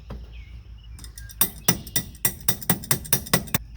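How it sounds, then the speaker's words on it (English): A crescent wrench used as a hammer strikes metal on the starter of an abandoned 1971 Dodge D100 truck, about ten sharp metallic blows in a fast, fairly even rhythm, close and clear. "Using the old crescent wrench hammer."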